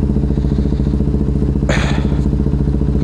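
A KTM Duke 390 gen 3 motorcycle rides through the city, its engine pulsing steadily and loudly up close, with a brief clattering burst partway through.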